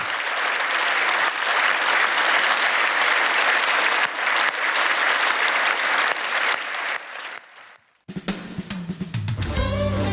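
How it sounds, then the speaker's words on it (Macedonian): An audience at the Ohrid Fest pop evening festival concert applauds loudly and continuously for about eight seconds, the clapping fading out before music begins. "Да слушнам голем аплауз"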